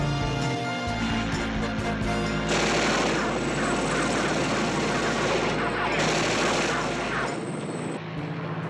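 Bursts of rapid 20-millimeter aircraft cannon fire rattle out over a constant engine drone, loud and sustained, with a short break midway before the firing resumes.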